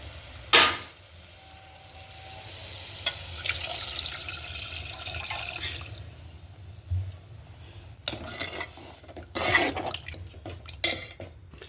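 Tamarind juice poured into an okra curry in a pan, giving soft watery splashing and trickling in a few separate bursts with quiet gaps between them, heard up close with no talk.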